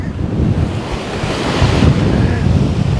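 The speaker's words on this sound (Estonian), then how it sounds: "praegu on väga tormine ja väga palju lainetab" Stormy sea waves crash and roar continuously along a Greek shoreline while strong wind buffets the microphone, a loud, dense wash of surf and gusts with no voices.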